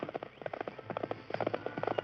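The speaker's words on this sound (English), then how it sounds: "the 2 men heard hoofbeats pounding on the trail beyond the grove" Horse hoofbeats pound on a trail as a radio drama sound effect, a rapid rhythmic clip-clop of galloping hooves, close and steady throughout with no voices.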